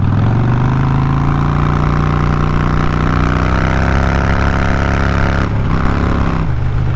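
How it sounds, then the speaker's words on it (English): A used, modified Harley-Davidson Dyna Street Bob FXDB motorcycle engine runs loud and close with a deep, steady low rumble, dropping briefly near the end and picking back up. "twisting the throttle on this bike, it's about to throw me off of it"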